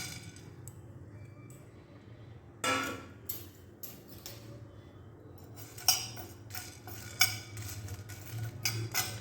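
Coriander seeds, peppercorns and dried chillies dry-roast in a pan with no oil, making quiet rattling ticks, while a utensil clinks and scrapes against the metal in uneven bursts.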